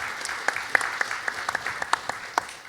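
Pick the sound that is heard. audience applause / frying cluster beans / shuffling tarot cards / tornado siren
audience applause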